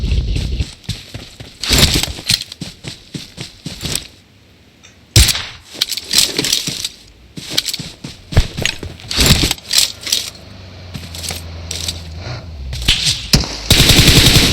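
Rapid bursts of automatic gunfire come from behind in PUBG Mobile, loud and close, broken by short pauses and sharp single cracks across the whole stretch.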